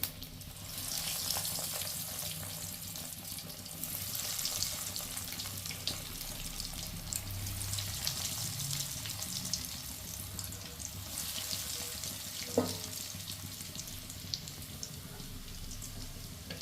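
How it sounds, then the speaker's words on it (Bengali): Breaded fish fingers deep-frying in hot oil over a lowered gas flame, a steady close sizzle and bubbling hiss that swells and eases, with a brief clink partway through. "এবার আমি ফিশ ফিঙ্গারগুলোকে উল্টিয়ে পাল্টিয়ে ভেজে নেব।"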